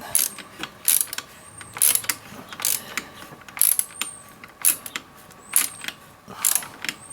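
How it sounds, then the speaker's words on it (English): Small ratchet tightening a foot peg bracket on a Sur Ron Light Bee electric bike, a series of close, crisp clicking bursts repeating in quick strokes with short pauses between. "I'm using a small ratchet."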